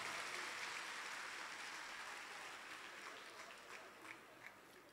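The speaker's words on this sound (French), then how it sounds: "Applaudissez s'il vous plaît." Faint applause from an audience at a school awards closing ceremony, a dense patter of clapping that gradually thins, with a few individual claps standing out as it fades.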